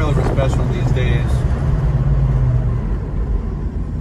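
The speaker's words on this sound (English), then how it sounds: "Car brakes very well," A 1976 Pontiac Trans Am braking, heard from inside as a loud, close low rumble of road and engine noise that eases off as the car slows, with a steady low hum and faint rattles.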